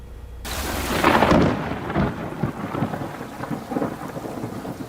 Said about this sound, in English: You might have heard the thunder earlier this afternoon as more rain came down